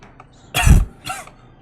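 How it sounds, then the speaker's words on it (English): A person who is sick and smokes coughs twice, a loud close-up bark and then a weaker second cough, with a faint throaty rasp before them. "I'm just fucking coughing"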